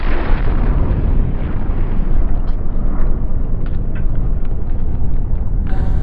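Grenade blast outdoors, a sustained loud roaring burst of broadband noise filling the whole span, with a sharper crack near the end and no talking.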